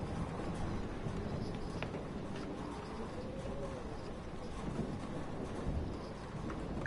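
Thunderstorm in the video game Life is Strange, a low rumble of thunder rolling under steady rain and wind, faint and distant, with no voices.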